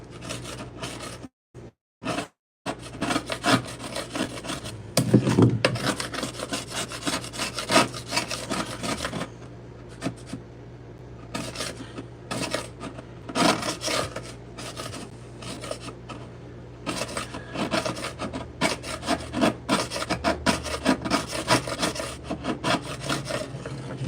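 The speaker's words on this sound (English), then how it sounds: "Let's try the new chisel." A new, very sharp chisel cutting and scraping vinyl plank flooring, close up in a long run of uneven rasping strokes with a few brief pauses early on, loud and continuous; no talking.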